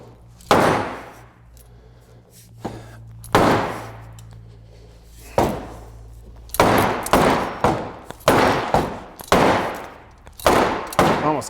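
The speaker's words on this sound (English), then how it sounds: "Destroying the table." A table is smashed apart with a series of loud, sharp impacts and cracks, irregularly spaced at first and then coming in a rapid cluster, close and harsh, with a faint low hum between blows.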